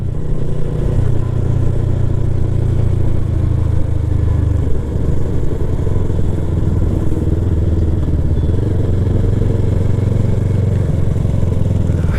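A Yamaha R3 motorcycle rides along mountain roads in Himachal Pradesh with a loud, steady engine drone and wind noise, the pitch dipping briefly midway.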